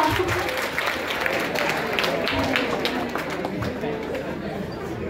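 Clapping from a gathering of students at a school guidance session, steady dense applause mixed with crowd chatter throughout.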